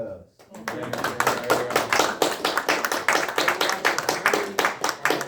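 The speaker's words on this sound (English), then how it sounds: "I'd like to applaud you on your presentation." A small audience applauds a WWII wartime service presentation, rising quickly after a brief pause into a steady run of distinct, close hand claps that keep up to the end, with a voice briefly audible underneath.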